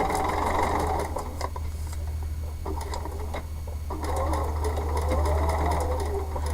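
A sewing machine runs steadily throughout while stitching a seam on a foundation paper pieced pumpkin block, its close motor whir and rapid needle ticking rising and dipping slightly over a low constant hum.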